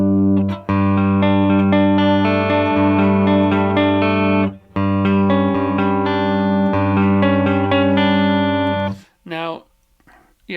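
A clean electric guitar with the pickup selector switched to the up position rings out sustained chords, full and resonant, for most of the stretch before a brief pause and a few final shimmering notes.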